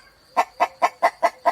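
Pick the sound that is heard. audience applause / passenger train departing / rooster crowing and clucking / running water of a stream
rooster crowing and clucking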